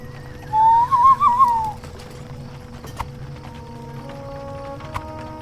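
A horse in the online game The Lord of the Rings Online gives a loud whistling whinny, followed by soft, sparse hoof clip-clops and game ambience.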